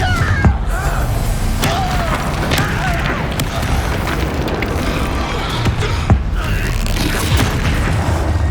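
Confringo blasting spell explosions in Hogwarts Legacy combat: repeated sharp booming blasts and crashes over dense continuous battle noise, with several distinct impacts spread through the stretch.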